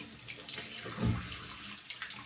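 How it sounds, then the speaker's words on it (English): Warm water runs from a tap into a sink or basin, a steady gush that swells briefly in the middle, heard alone without talking. "Turn my water on and get it nice and warm."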